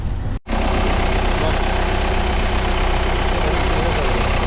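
An Audi car's engine runs at a steady, loud idle close by, with a deep continuous drone. It cuts out for a moment right at the start, then holds without change.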